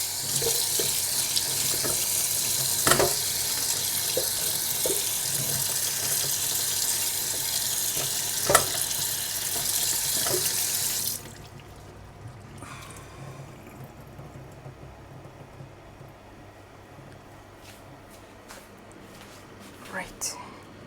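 A running kitchen tap splashes steadily as a watermelon is washed under it, then the water shuts off, leaving quiet room sound with faint handling noises; speech is present.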